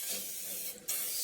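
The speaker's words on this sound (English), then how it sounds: "spray the molds" A continuous aerosol cooking spray hisses close up onto gummy molds, pausing briefly near the end before the spray resumes.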